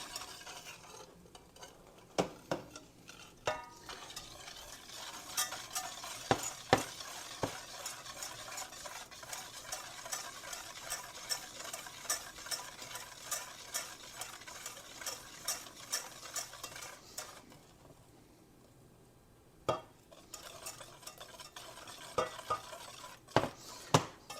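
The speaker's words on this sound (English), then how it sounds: "Grab a whisk and just kind of start mixing this stuff together." A whisk stirs milk into cocoa in a pot for chocolate pudding, making soft, busy scraping and rhythmic clinks against the pot, close and fairly quiet, with a brief lull in the middle and no voices.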